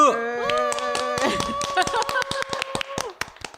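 A small group claps in an indoor room, a brisk run of hand claps that thickens and grows louder toward the end, with a voice cheering over the start.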